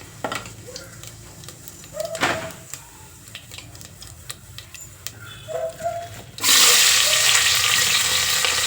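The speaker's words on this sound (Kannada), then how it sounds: "ಎಣ್ಣೆ ಕಾಯ್ದಿದೆ ಹಾಕೋಣ ಒಗ್ಗರಣೆಗೆ" Quiet clinks and taps of utensils, then a sudden loud burst of sizzling as mustard seeds and cumin hit hot oil and keep crackling steadily.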